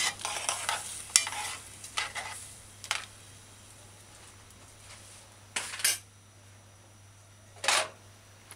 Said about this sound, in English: Just kind of stir it in a little.